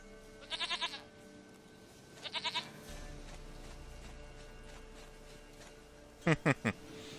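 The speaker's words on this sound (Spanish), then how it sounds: "Goat of mine, dearest, sweetest goat." Goat bleats in the video game The Witcher 3: three short quavering bleat bursts spaced apart over a low steady ambient hum, the last pair louder and nearer, with no speech.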